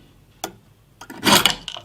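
An old metal radiator bracket is cut and filed by hand: one brief scrape, a pause, then a louder burst of rasping strokes, close up with no talking.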